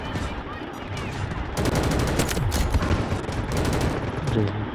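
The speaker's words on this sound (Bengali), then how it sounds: "আন্দা গুন্দা গুলি করতেছে বাজে" Gunfire in the mobile shooter game Delta Force Mobile on the Cyclone map, loud rapid automatic bursts and fusillades in close succession, with a voice speaking beneath.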